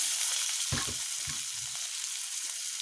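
Onions frying with garlic and ginger paste give a steady loud sizzle, with a few scraping spatula strokes as the mixture is stirred in the pan.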